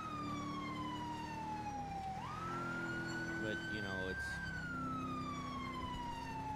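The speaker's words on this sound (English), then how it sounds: "Lights and sirens mean stop." A police car siren in the video game GTA V with the LSPDFR mod wails and rises in pitch, steady and fairly close, while a voice speaks briefly underneath.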